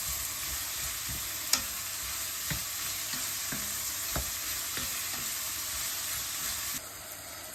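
Onion frying in a pan until soft, a steady broad sizzle with a few sharp clicks of stirring utensil against the pan, continuous and fairly close, no talking.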